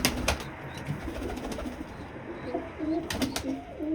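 Pigeons coo softly in a loft, with low repeated calls and a few faint chirps and rustles nearby. The background is quiet.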